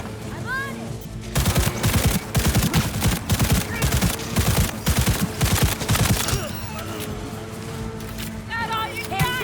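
Heavy covering gunfire in Cyberpunk 2077, repeated loud automatic bursts rattling for several seconds, with brief shouted voices around the shooting.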